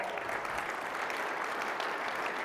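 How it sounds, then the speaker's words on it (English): Audience applause fills a summit opening session, a dense steady wash of many hands clapping close and loud without a break for the whole stretch. "Round of applause to you all."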